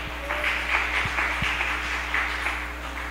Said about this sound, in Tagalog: Ayun ang palakpak natin.